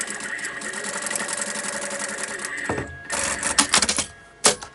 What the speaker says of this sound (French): je couds toute la latérale